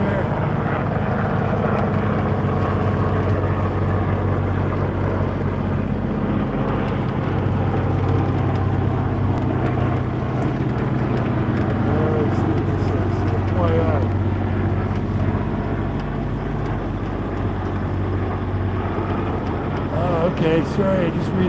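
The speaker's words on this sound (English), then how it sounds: "Yeah, engine noise." A steady, unbroken engine drone runs continuously at close range, with a voice talking over it throughout.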